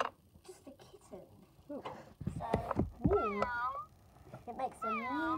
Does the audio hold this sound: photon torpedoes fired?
no